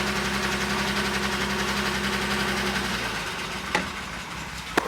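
A 1967 Jaguar E-Type S1 engine idling on choke, a steady close rumble with a rhythmic pulse that drops away near the end, followed by a couple of sharp clicks.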